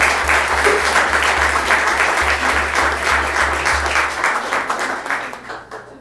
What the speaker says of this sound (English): Can you please give a round of applause to Miss Rena?